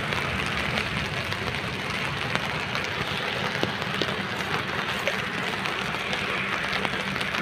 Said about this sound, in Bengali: রাস্তা দিয়ে হাঁটাই যাচ্ছে না এত বৃষ্টি